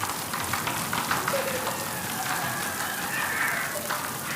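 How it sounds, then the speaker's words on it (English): Dense, steady hiss of heavy rain pouring down, constant and fairly loud throughout, with no clear voices. "It started raining really hard."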